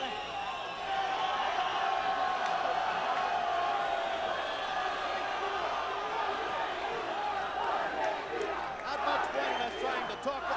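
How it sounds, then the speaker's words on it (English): A raucous boxing arena crowd roars steadily after a title fight ends, a dense, continuous wall of cheering and shouting that swells slightly louder, with a commentator's voice partly buried beneath it. "It's a raucous crowd getting seemingly louder now that the fight has come to a close."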